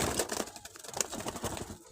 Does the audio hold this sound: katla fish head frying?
no